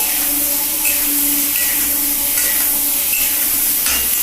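Potatoes and ridge gourd with onion sizzle steadily in a hot pan, a loud continuous frying hiss with faint stirring scrapes and no talk.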